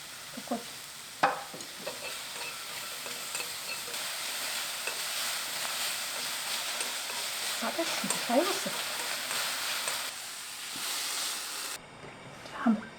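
Zucchini frying in oil in a frying pan, a steady broad sizzle throughout with occasional stirring scrapes and brief voices in the background.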